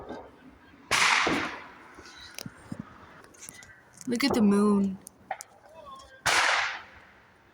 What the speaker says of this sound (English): amazing fireworks from the Mexicans.